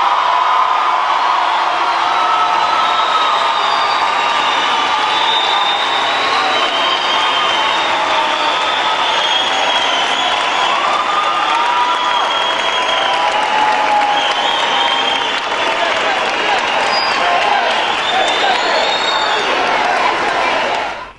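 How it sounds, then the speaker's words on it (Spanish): Large crowd at a 2012 Venezuelan political rally proclaiming Henrique Capriles as presidential candidate bursts into loud, continuous applause, dense and unbroken, with cheering and whoops mixed in. "Una explosión de aplausos le recibió."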